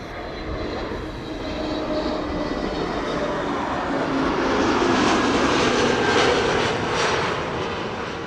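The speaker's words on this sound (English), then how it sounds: "This is KLM flight 1002, an A321neo arriving from London." A KLM Airbus A321neo arrives and lands at Amsterdam Schiphol, its engine roar building from a moderate level to a loud peak in the middle and easing slightly afterward.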